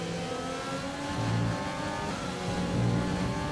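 Formula 1 race cars in the F1 2020 game run wheel to wheel at Bahrain, their high-pitched engines droning steadily and swelling in brief rises as they push side by side.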